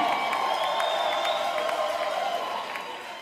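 Audience applauding and cheering for Princesse Betou at a gathering in Mbuji-Mayi, a sustained hiss of distant clapping with a tonal whoop or cry layered over it, fading slightly at the end.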